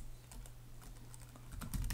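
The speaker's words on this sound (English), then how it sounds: "type the word sudo, and you can do nano or vim" Quiet, quick typing of a terminal command on a computer keyboard, a short burst of light key clicks lasting under two seconds.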